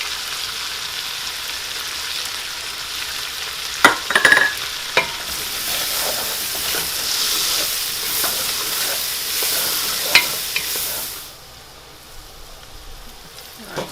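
Vegetables including celery sauté in a hot pan with chili powder, giving a steady close sizzle and hiss while a spoon scrapes and clatters through them in several brief stirs, then the frying quiets near the end.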